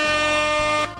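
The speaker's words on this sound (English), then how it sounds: "Love that, the air horn button." A loud, blaring air horn sound effect from a soundboard button, sustained and brassy, cutting off abruptly after about a second.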